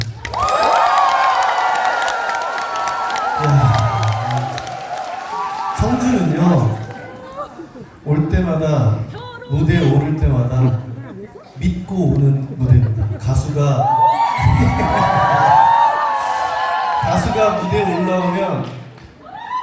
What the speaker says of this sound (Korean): 어떻게 박수치고 어떻게 환호해야 가수가 좋아하는지 너무 잘 알고 계셔서